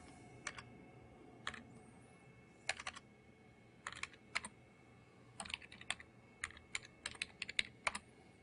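A username is typed on a computer keyboard in short bursts of crisp, close key clicks separated by pauses, growing into quicker runs of keystrokes toward the end.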